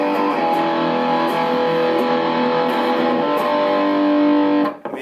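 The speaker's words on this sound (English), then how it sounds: "Of course, that's if you want to dime the distortion." Electric guitar played through a Diago Little Smasher 5-watt amp head with the distortion fully maxed, a loud sustained fuzzy chord ringing with thick saturated harmonics before being abruptly cut off near the end.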